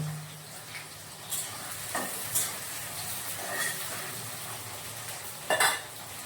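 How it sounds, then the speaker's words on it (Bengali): Green chillies and onions frying in a pan, soft sizzling hiss at low volume with occasional stirring scrapes and clinks of a utensil against the pan. "কাঁচা লঙ্কা, এটাকে আমি ভালো থেকে বেজে নেবো লাল লাল করে।"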